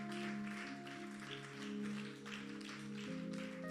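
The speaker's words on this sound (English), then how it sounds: "Yes, give a round of applause" Church congregation applauding during a sermon, a steady wash of clapping at moderate distance under sustained organ or keyboard chords, with no talking.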